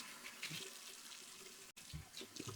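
Tap water runs and splashes while a face is rinsed and re-wetted mid-shave, a steady close rush with a brief break partway through.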